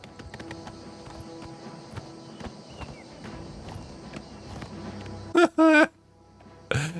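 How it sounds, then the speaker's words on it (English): Horse hooves clip-clop at a steady pace in the video game Oblivion Remastered, a faint rhythmic tapping beneath background game sounds, interrupted by a couple of loud bursts of in-game voice. "I'm on a horse, and you're not."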